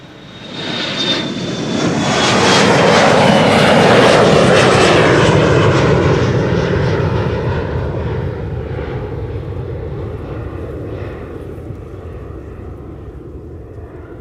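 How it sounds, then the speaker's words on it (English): An Embraer 175 jet on KLM flight 1045 to Birmingham at Amsterdam Schiphol swells into a loud, close engine roar with a thin whine, peaks within a few seconds, then fades gradually as it moves away. "Embraer 175, KLM Flight 1045 to Birmingham"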